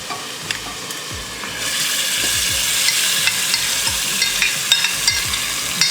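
Marinated goat liver sizzles loudly in a tomato masala, with steady frying hiss and repeated scraping stirs of a spoon against the pan; no voices.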